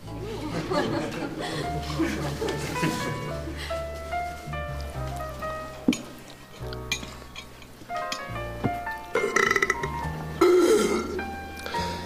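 Burping at the table comes amid chatter and light laughter, with a few small clinks and taps mixed into the lively voices.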